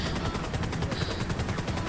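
Helicopter in a video game flying with rapid gunfire, a steady loud rotor chop overlaid with fast repeated shots throughout, no speech.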